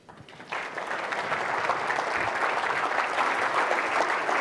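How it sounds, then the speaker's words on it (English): A large audience applauds to welcome former Swedish Prime Minister Carl Bildt at a speech: dense, steady clapping that starts after a brief quiet beat and holds at an even, moderately loud level throughout. "And so could I ask you, with your applause,"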